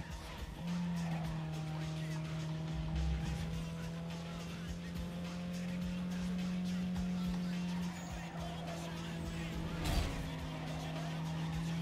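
Race cars in Need For Speed Underground 2 hold a steady loud engine drone, with a brief tire skid near the middle and a sharp knock toward the end, running continuously as a near, even backdrop.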